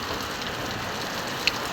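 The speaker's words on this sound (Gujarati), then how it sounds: "8 વાગવા આવ્યા તો પણ વરસાદ ચાલુ જ છે" Steady morning rain keeps falling outdoors, a soft continuous hiss of drops on surfaces, moderately quiet, with one small sharp click near the end.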